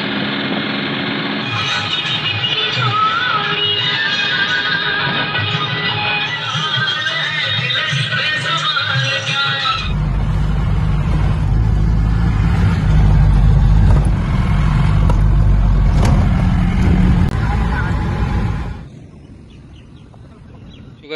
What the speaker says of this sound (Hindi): और ये गाड़ी क्रूजर इसी में जा रहे बैठकर